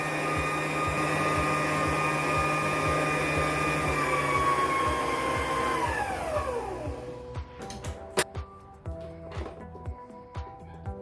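An electric mixer whips vanilla sponge cake batter with a steady motor whine that winds down and stops about two-thirds of the way through, followed by a few light knocks and clicks of the bowl and beaters.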